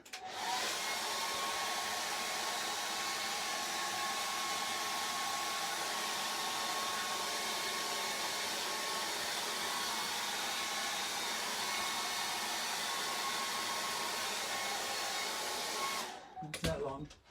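Hair dryer blowing steadily on a watercolour portrait painting, a loud continuous whir from start to finish that cuts off abruptly near the end, with no talk.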